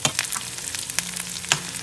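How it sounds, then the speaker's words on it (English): Shallots and dried chilies frying in oil for Kerala lentil curry, a steady close sizzle with crackling pops and occasional sharp spikes from stirring. "So fry till shallots turn light golden in color."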